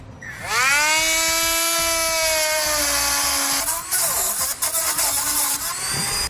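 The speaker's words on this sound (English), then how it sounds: "Now I'm going to trim the excess studs off of our breaker just so we have a little bit more clearance with the hood." A rotary tool trims excess studs off a battery breaker; its high whine spins up, holds a steady pitch, then wavers and dips as the cut bites, loud and close throughout.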